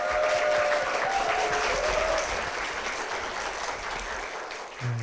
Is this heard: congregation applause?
yes